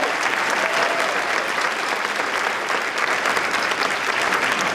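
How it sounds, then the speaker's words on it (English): A school convocation audience applauds the band and team, dense sustained clapping filling the room at a loud, even level for the whole stretch, with no speech standing out above it. "let's give another round of applause for the band and for our team"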